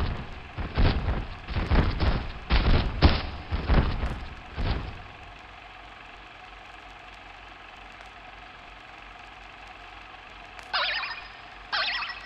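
Video game cannon fire in Kingdom Hearts II Final Mix: a series of sharp booming blasts in quick succession, followed by a quiet lull, then a few more bursts near the end.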